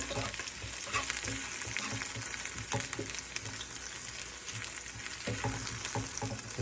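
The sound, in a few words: sauteing in a pan before adding ground beef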